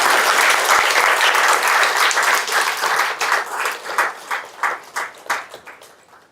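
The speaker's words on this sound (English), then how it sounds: "Give a huge round of applause for Sukant." A large audience at a talk event applauds loudly and densely at first, then the clapping thins out into a few scattered, separate claps before fading.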